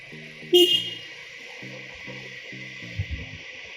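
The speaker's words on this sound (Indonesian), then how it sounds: "Kita bisa sambil menghidupkan klakson." A single short, loud honk from a motorcycle horn, followed by a steady idling engine hum with a couple of faint knocks.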